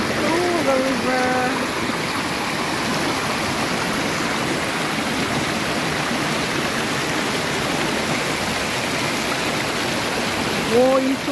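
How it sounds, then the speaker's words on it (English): River water rushes and splashes steadily and loudly around someone wading through Cane River Falls, a dense continuous roar with faint voices at the start and end. "I am literally walking through the river."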